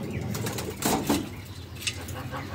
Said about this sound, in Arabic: اطمنا على الحمام وحطينا له الاكل والشرب